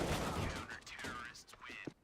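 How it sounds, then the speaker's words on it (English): Gunfire and grenades in a CS:GO match on the Train map, a dense burst of shots and blasts heard close, with a commentator talking over the top. "The grenades are coming in, the shots coming from Astralis"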